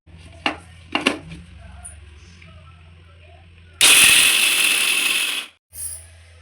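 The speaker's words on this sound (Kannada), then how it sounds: "ಇದನ್ನು ಸ್ವಲ್ಪ ಗ್ರೈಂಡ್ ಮಾಡ್ಕೊಬರ್ತೀನಿ." Kitchen mixer grinder grinding peanuts to a coarse powder: a few sharp clicks and knocks, then a loud, dense whirring burst of about two seconds that cuts off, followed by a short second pulse.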